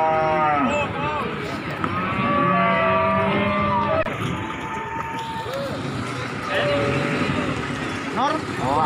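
Cattle unloaded from a truck at Margorejo market in Pati moo repeatedly, several overlapping low bellows near and far amid crowd noise and people talking.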